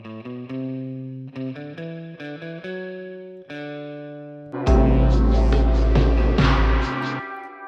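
An electric guitar played dry with no effects applied, a sequence of clean plucked notes and chords ringing out, then a louder strummed passage that sustains before fading, alone with no voices.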